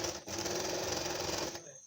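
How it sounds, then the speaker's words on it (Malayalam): Sewing machine stitching the side of a cloth face mask, a steady close whirring run lasting over a second before stopping abruptly. "തയ്യൽ തുമ്പിട്ട് നമ്മൾ അടിച്ചെടുക്കുകയാണ്."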